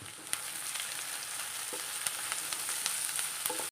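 Curry leaves dropped into hot oil in a pan of fish curry, giving a steady close sizzle and crackle with scattered sharp pops throughout, no voices.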